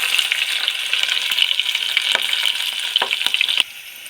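Green chillies frying in a hot pan with fresh green garlic and peeled garlic, a loud, bright, continuous sizzle with a few utensil taps, dropping suddenly to a quieter hiss near the end.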